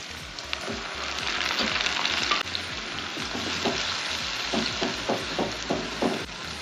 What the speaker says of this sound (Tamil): பெரிய வெங்காயமும் அரைச்சி வச்ச வெங்காயமும் சேர்ந்து வேகட்டும்